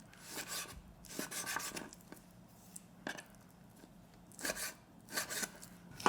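A knife slices through raw pork belly on a cutting board in a home kitchen while japchae is being prepared, giving bursts of rasping, scraping cuts with brief pauses between strokes.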